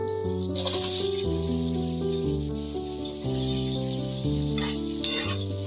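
Chopped onions fry in butter with cardamom, bay leaf, cloves and cinnamon sticks for butter chicken, giving a steady, close sizzling hiss beneath louder background music that plays throughout.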